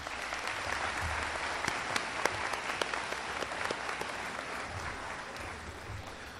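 A graduation audience applauds the parents, steady dense clapping from a large crowd, moderately distant, sustained throughout without talk.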